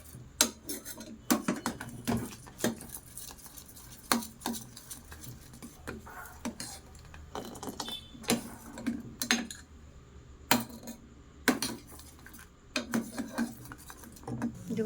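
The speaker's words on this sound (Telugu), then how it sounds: "ఇలా కలుపుకుంటూనే ఉండాలండి మనం" Khova mixture with a few drops of lemon juice stirred continuously in a pan, with frequent clicking and scraping of the utensil against the pan in an uneven rhythm, close and moderately quiet, no talk.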